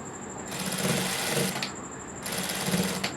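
A sewing machine stitches a kurti neck in two steady running bursts, each about a second long, with a short pause between them. The sound is close and continuous, with a bright whir over a low rumble.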